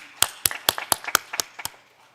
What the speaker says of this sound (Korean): 동의하시면 하나님께 영광의 박수 한번 돌려보세요.